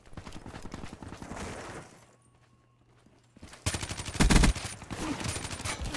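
Video game gunfire crackles in dense rapid bursts, drops to near silence midway, then returns as a louder, heavier barrage of shots.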